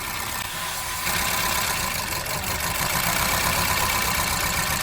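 A car engine idles roughly and loudly, its uneven, stumbling pulse suggesting a misfire, steady throughout with no voices.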